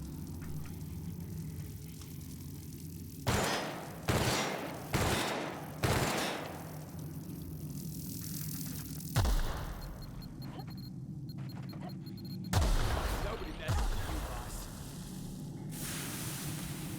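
Gunfire in the video game The Outer Worlds: several sharp bursts of shots spaced a second or so apart, then two more after pauses, over a low ambient rumble.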